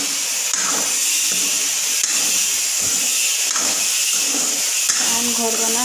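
Chopped tomatoes with salt and spices sizzling in a pan on a gas stove, giving a steady loud hiss of steam and frying throughout, with a few faint clinks from stirring and no talk over it.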